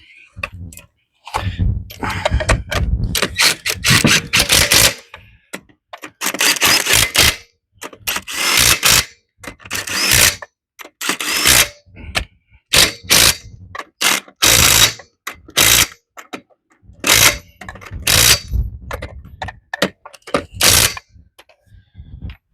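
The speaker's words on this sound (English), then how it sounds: "2 lower control arm bolts to tighten on this side" A ratchet tightens the lower control arm bolts on a Jeep's front axle in repeated bursts of quick clicking, loud and close, with brief pauses between strokes and a voice talking in places.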